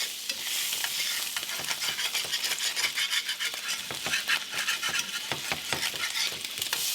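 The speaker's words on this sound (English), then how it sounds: "We're going to stir it just to pick up the extra flavor from where the burger cooked on the very bottom." Salisbury steak pan juices sizzle while a utensil stirs and scrapes the bottom of the pan in quick repeated strokes, close up, with no talking.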